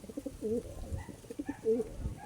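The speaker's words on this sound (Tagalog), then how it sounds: "Yan yung tatay ng ibon ni Boss Son." A pigeon coos nearby in a few soft, throaty, rolling phrases against a quiet background.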